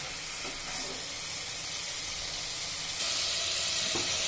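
Rui fish frying in a pan of spiced oil makes a steady close sizzle and hiss, growing louder and brighter toward the end.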